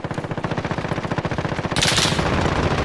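Rapid automatic gunfire in a Warzone match rattles in a steady, close, loud burst, then shifts to a harsher, brighter blast toward the end; no talking.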